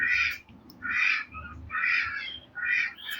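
Ducks on a farm quacking in four or five loud, raspy bursts spaced roughly half a second apart, close by with little else around.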